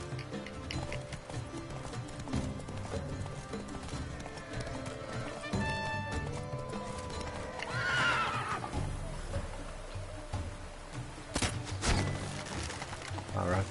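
Roach the horse in The Witcher 3 gives loud whinnies amid hoof clip-clops, with rustling game ambience and a brief voice in between.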